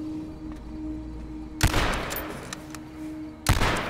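Two loud video game gunshots ring out about two seconds apart, each with a sharp crack and a short rumbling tail over a faint steady hum.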